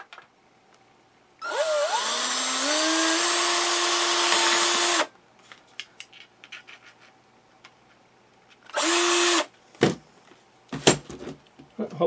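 A power drill bores a hole in a tape-residue-covered surface, spinning up in a long loud whirring burst of about three and a half seconds, then a shorter burst, followed by scattered knocks and clatter.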